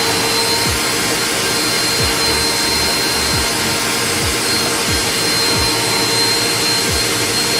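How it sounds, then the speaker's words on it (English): A Eureka Airspeed NEU10AE4 vacuum cleaner, used in handheld mode, runs steadily and loudly throughout, a constant whirring drone with a faint high whine and soft periodic thumps underneath. "test out the handheld feature of the vacuum cleaner"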